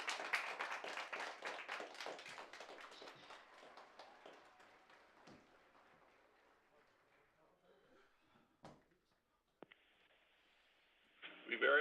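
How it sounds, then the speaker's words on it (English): Audience clapping at a live ARISS school radio contact for a space day, a dense burst of applause that thins out and fades over several seconds, followed by a few scattered taps and near silence. "give a great big round of applause, everybody, to K6DUE"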